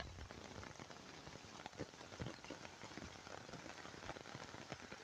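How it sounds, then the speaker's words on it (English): Rain patters on surfaces in a cemetery in Black River, a faint, steady hiss with scattered drops tapping close by, heard alone without talking. "It's getting heavy. It's raining."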